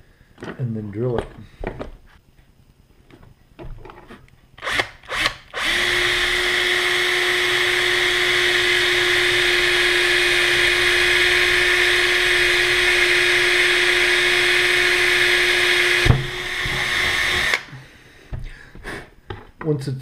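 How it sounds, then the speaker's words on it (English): A power drill bores a hole into a boot during a repair, whining at a steady pitch for about ten seconds before stopping, with brief handling noises and speech before and after. "And then drill it."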